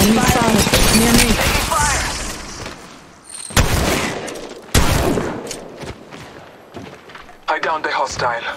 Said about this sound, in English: Shots fired at me. Contact with hostile. Taking fire!